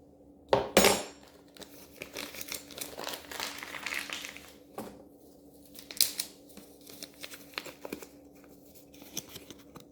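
A small metal spoon clinks and scrapes against a dish while scooping ground pepper for homemade beef jerky, with a sharp clatter at the start followed by lighter rattles and crinkling, close up and without speech.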